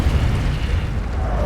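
A dense, rumbling fire blast from the Incendio spell in Hogwarts Legacy, a sustained low roar without pause, loud and close.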